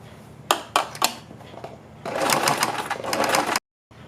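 A sewing machine stitches the neck strips of a kurti: three sharp clacks, then a short steady whirring run of stitching up close that stops abruptly.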